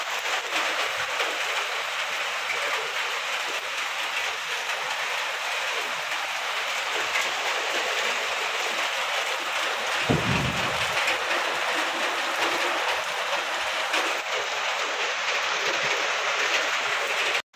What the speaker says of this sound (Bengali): বৃষ্টি শুরু হয়ে গেছে, দেখো, বলা নাই কওয়া নাই, বৃষ্টি শুরু